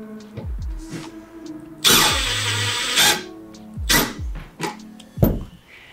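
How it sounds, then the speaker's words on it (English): A power driver sends a screw through a wood plank into PVC in short, loud, close bursts of whirring motor, with one longer sustained run in the middle and brief pauses between. "we are going to use the driver to send the fastener through the wood plank all the way to the PVC"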